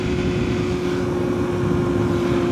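A Kawasaki Ninja 650 motorcycle rides behind on an airstrip, a steady, droning engine note holding constant pitch under continuous wind rush for a few seconds.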